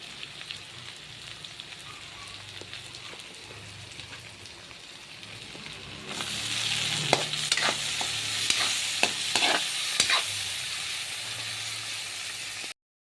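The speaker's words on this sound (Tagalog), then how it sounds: "gisa na natin luya, sibuyas, saka bawang" Ginger, onion, garlic and tomato sauté in a pan, a soft continuous sizzle that swells and brightens halfway through, with scattered stirring scrapes and spatula clinks.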